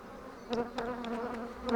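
Honey bees buzz steadily at close range, a droning hum that rises in short swells as individual bees pass near.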